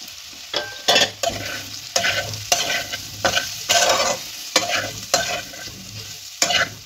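Ginger paste fried with turmeric, Kashmiri chili, cumin and coriander powder for a vegetarian kohlrabi curry is stirred in a pan, giving loud scraping strokes about once a second over a steady sizzle, with no voices.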